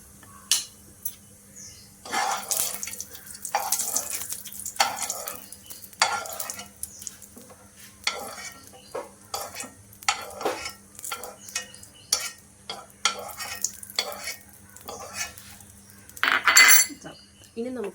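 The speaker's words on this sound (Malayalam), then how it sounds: "നമ്മുടെ കാഷ്യൂ നല്ല റോസ്റ്റായിട്ട് വരുന്നുണ്ട് കേട്ടോ" Cashews roasting in ghee in a pan, stirred with a metal spoon: repeated scraping and clinking strokes over a faint, steady sizzle, close and fairly quiet.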